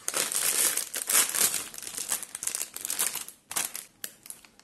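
Bag of Çerezza beef and onion crisps torn open by hand, loud close crinkling and crumpling of the foil packet in bursts, tapering into softer rustles with short pauses.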